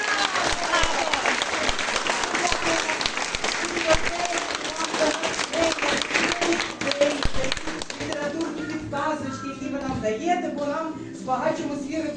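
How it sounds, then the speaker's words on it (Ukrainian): A room full of people, children among them, claps loudly and continuously at a Ukrainian children's performance. The applause thins toward the end while voices start to come through. "І ще раз оплески."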